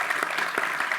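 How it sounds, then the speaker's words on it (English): An audience at a live space-politics podcast recording applauds, a dense steady wash of clapping from a crowd that fills the whole brief moment. "Yes, you can cheer that."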